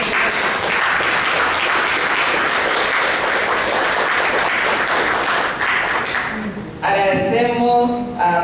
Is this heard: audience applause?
yes